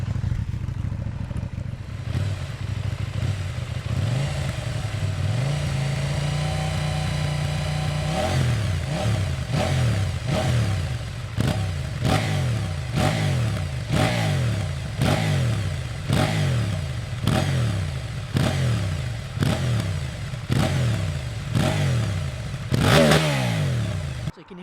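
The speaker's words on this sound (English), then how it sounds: "we'll give it a little bit of a rev" A KTM 790 Duke parallel-twin with its unusual firing order idles smoothly at close range, then gets a series of sharp throttle blips, roughly a dozen rhythmic revs rising and falling, ending in a final louder rev.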